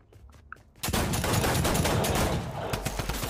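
Sustained automatic gunfire in the Fortnite video game, with a few quieter single shots, then a loud continuous burst of rapid fire held for over two seconds, close and dominant with no voices over it.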